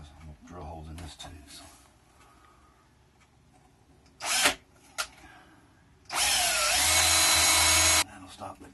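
A power drill countersinks a screw into the support of an RV table, with a brief whir, a short blip, then a sustained loud burst of about two seconds, and talk before and after.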